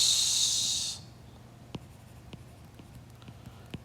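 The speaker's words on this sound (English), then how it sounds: "Let me write that down" Pen or marker writing out a website address, preceded by a loud steady hiss that cuts off after a second, then faint scratchy strokes and a few light taps, close and alone.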